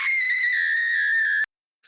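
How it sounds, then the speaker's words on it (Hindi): A loud, sustained high-pitched scream ringing through a church, held steady for about one and a half seconds before cutting off abruptly, then briefly returning at the very end. "एक तेज चीख चर्च में अंदर गूंजी।"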